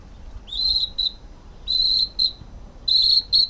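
A Brazilian cricket whistle imitating a single cricket gives three shrill, trilling chirp bursts, each a longer trill followed by a short one, loud and close with pauses between, and no voices.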